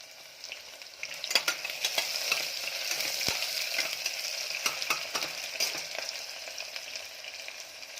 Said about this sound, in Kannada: ಫಸ್ಟು ಒಂದು ಸ್ವಲ್ಪ ಒಗ್ಗರಣೆಲೆಲ್ಲ ಬೇಯಿಸಬೇಕು